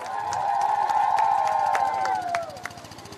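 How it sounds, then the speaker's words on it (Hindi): A crowd at a village panchayat awareness gathering sends up a sustained, loud ululation-like cry with scattered claps and shouts underneath, fading out near the end. "मो समस्त को जोरदार करताली आ हुड़ाहुड़ी देवार लगी"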